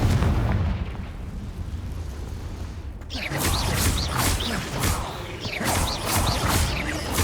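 A Confringo blasting spell from the game Hogwarts Legacy goes off with a sudden loud burst, followed by rumbling, crackling explosion noise that stays dense and heavy for several seconds after a quieter stretch.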